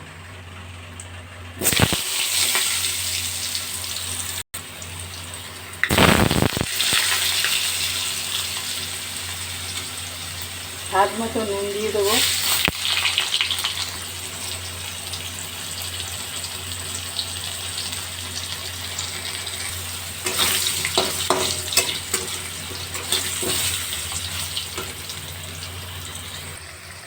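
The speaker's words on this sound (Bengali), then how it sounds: "আলু ভাজা হয়ে গেছে" Potatoes sizzling in a pan of oil tempered with whole cumin, cardamom, cinnamon and bay leaf, a continuous hiss broken by louder bursts as they are stirred, while someone speaks briefly.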